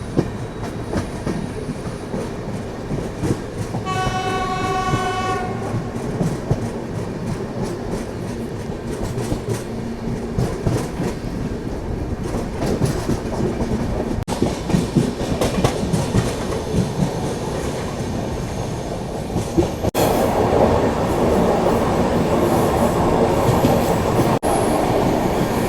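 The Rani Chennamma Express runs past the long-distance Jodhpur Express, with a steady rumble and rhythmic clatter of wheels throughout, a brief horn near the start and a louder surge of passing noise toward the end.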